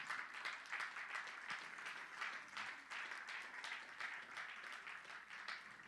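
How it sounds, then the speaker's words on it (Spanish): Sustained applause from a large church congregation, steady and dense clapping throughout with no pauses. "Un aplauso fuerte al Señor."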